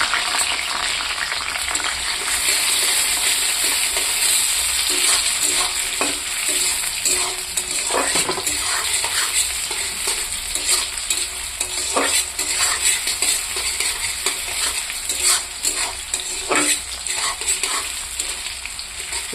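Onions fry in a pan with bay leaves for a chicken gravy, a loud steady sizzle punctuated by regular scraping and knocking as a spatula stirs them over and over.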